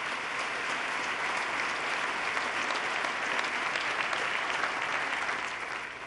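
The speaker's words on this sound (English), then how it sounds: "let's give them a round of applause for their turnaround" Audience at the 2014 New York State of the State address applauding steadily, a dense, loud, sustained clapping that carries through without pause or voices.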